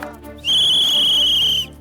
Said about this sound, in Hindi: रेफरी की सीटी के साथ होता है हाफ टाइम है